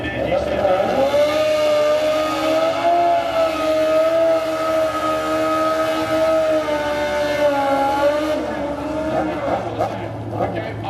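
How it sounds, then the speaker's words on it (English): Drag racing motorcycles pass at a drag strip event, a sustained loud engine drone with steady pitch that swells and fades slightly over about eleven seconds, continuous and dominant. "Bikes, the two-wheel variety coming our way"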